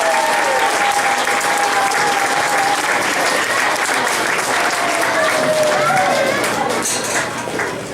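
An audience at an elementary school graduation applauds the graduates, loud sustained clapping from a crowd, with a few whoops and voices mixed in.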